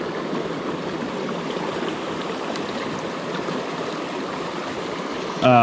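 A creek in the desert flows steadily, giving a close, continuous rushing and babbling wash of water, with a brief sharper sound right at the end.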